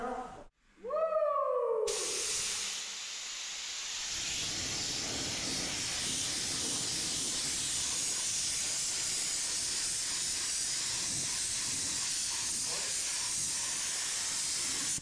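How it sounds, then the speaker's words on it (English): A brief squeak of a spray paint can nozzle, then a long, steady hiss of Rust-Oleum spray that continues evenly and fairly loud without breaks. "I think it's gonna spray fine. Yep. Spraying. It's spraying."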